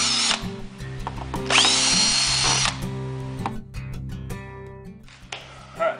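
A power drill backs screws out of an amplifier in a speaker box. Loud, close motor whines come in several bursts, each ending with a pause or a short rattle.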